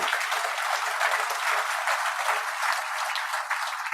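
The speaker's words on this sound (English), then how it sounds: "There was a round of applause for that." A crowd at a state AFL-CIO labor convention gives a sustained round of applause, an even wash of many hands clapping at moderate distance without pause.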